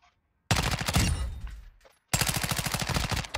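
Rapid automatic gunfire cracks out at a firing range in Modern Warfare II, two loud close bursts of evenly spaced shots separated by a short silence.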